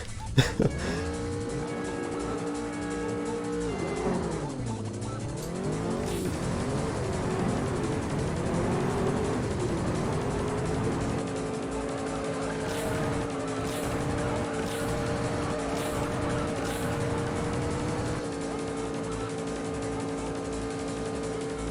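A Mazda MX-5 races in the video game Juiced, its engine roaring loudly and continuously with rising and falling revs through gear changes and a deep dip mid-run.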